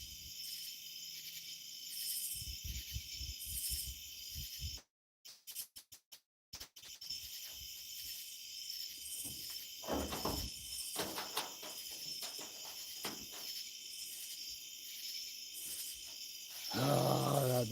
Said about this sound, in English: you can hear crickets